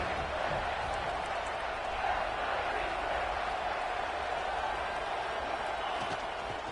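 Stadium crowd roaring in an American football video game during a big third-down play, a steady dense wash of cheering that holds at one level throughout with no clear talk over it.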